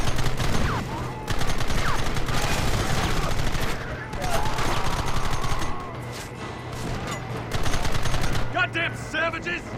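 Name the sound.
gunfire in video game Red Dead Redemption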